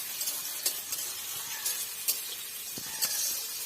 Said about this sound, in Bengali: দেখুন হালকা করে লো ফ্লেমে দেখে ভেজে নিতে হবে।